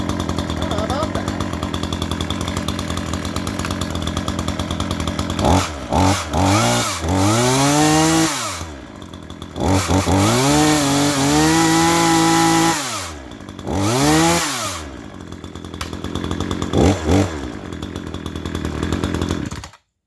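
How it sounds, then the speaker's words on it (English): A new Craftsman chainsaw engine roars loudly and steadily on its first start, with several revving bursts that rise and fall in pitch before settling into a continuous run. "That was the easiest starting of a chainsaw I've ever had in my life."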